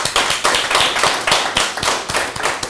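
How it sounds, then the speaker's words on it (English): Rhythmic group clapping at a community symposium, a steady pattern of sharp hand claps rising and falling in waves, fairly close and loud with no talking over it. "So let's give them a round of applause."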